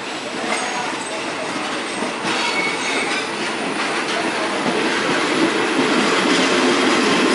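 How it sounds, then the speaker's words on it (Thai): A train rolls past on the rails at Thepha station in Thailand with a loud, steady roar, wheels rumbling and squealing faintly throughout. "อันนี้เป็นรถไฟฟรีครับ"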